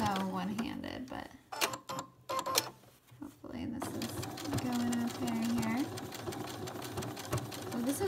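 A sewing machine sewing down the pocket of a pair of joggers, its rapid needle chatter running close and steady under a speaking voice, with a brief pause and handling clatter partway through.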